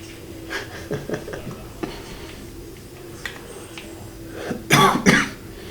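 A man coughs several times in short hacking bursts, with a final loud double cough and throat clearing at the end, close to the mic with little talk.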